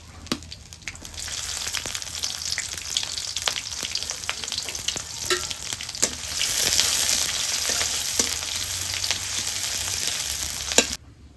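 Bay leaves, whole spices and chopped onion fry in mustard oil in a kadai over a village stove, giving a continuous loud sizzle broken by occasional scrapes and clinks of stirring, with no voices.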